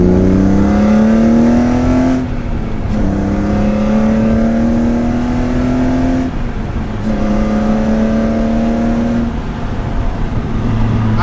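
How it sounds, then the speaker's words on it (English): BMW E30 fitted with an S52 engine pulling hard in third gear from about 3,000 RPM, a loud, continuous engine note climbing steadily in pitch with two brief dips at upshift-like breaks, droning close and alone with no talk. "This is a 3rd gear pull"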